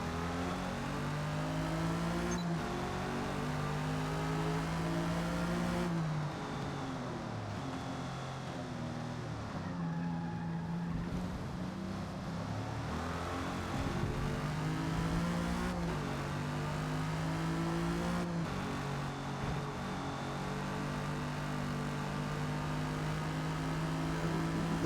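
A 1956 Jaguar D-Type racing around Lime Rock in Forza Motorsport, its engine droning steadily and rising and falling in pitch through several gear changes and throttle lifts over a long stretch.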